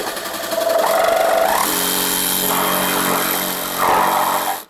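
A power tool cuts through the plastic-covered aluminum bumper of a 2023 Jeep Grand Cherokee 4xe Trailhawk, producing a loud, close, continuous whining grind whose pitch shifts as the blade works, with no voices.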